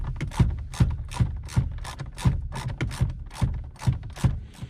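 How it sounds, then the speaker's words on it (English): Ratchet driver with a T30 Torx bit backing screws out of a Honda CR-V steering wheel, a close, steady series of rhythmic clicking strokes repeating about twice per second. "What I'm going to do is take out both of these T30 Torx bits."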